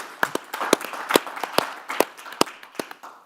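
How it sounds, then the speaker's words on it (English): Sparse applause from a small audience in a conference room at an aviation fuel supply chain meeting, a handful of distinct, sharp claps spaced out and thinning toward the end. "Let's give him a round of applause."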